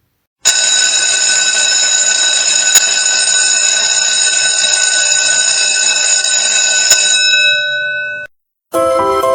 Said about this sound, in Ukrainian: Дистанційний сьогодні дзвінок.